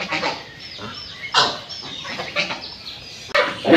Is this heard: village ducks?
yes